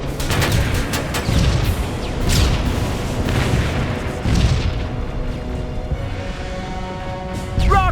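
Rocket explosions in the video game Terminator Resistance, a dense barrage of loud booms and crashing blasts rolling one after another with gunfire-like bursts, continuous and close throughout.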